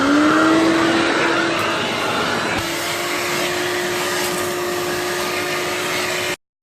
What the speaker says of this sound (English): Steam cleaning the carpets now.